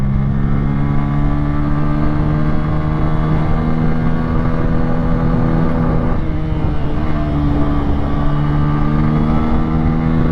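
A Bajaj N160 motorcycle accelerating through the gears on an open road, its engine droning loud and close with a steady rising hum and a brief dip midway as a gear changes.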